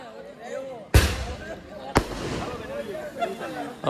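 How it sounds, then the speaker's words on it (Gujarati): Two sharp firecracker bangs burst about a second apart at a Gujarati wedding, close and loud, while people chatter in the background. "સરસ મજાના ફટાકડા ફેરા છે બહુ સરસ છે હવે પણ પતી ગયા હજી ફૂટે"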